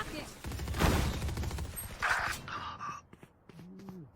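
Gunfire crackles in a shooting video game, with a burst of rapid shots early and a sharper volley around the middle, followed by scattered quieter in-game sounds and beeps as the action thins out.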